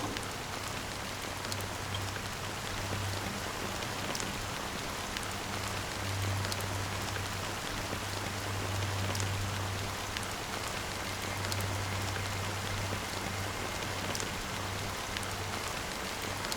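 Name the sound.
rain falling in the video game Honkai: Star Rail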